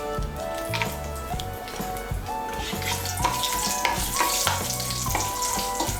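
Bay leaf with whole garam masala of cardamom, cloves and a piece of cinnamon sizzling in hot oil for a Bengali katla fish curry, a continuous crackling fizz with intermittent utensil scrapes and clinks as it is stirred, under faint background music.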